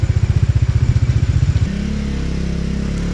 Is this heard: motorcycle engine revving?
yes